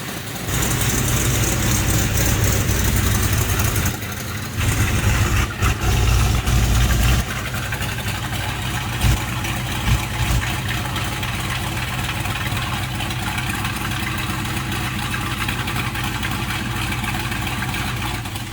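A Dodge Challenger engine runs steadily at idle, loud and close, with a deep constant rumble, a brief dip and stutter early on, then settling into an even drone.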